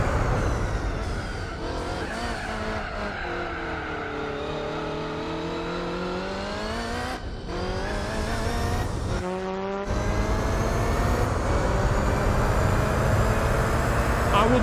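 A race car in Gran Turismo 4 drives on hard rear tyres, its engine note rising and falling steadily through gear changes with a brief lift off the throttle; a voice talks over it throughout.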